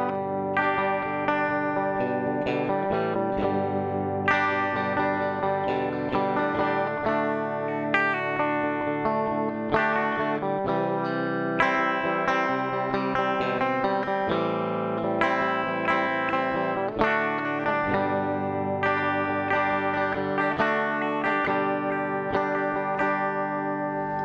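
Grover Jackson DK-42 electric guitar from Japan, played through its humbucker and middle pickups together, giving a steady stream of chorded and single-note playing with an effected, slightly distorted tone, close and continuous with no talk.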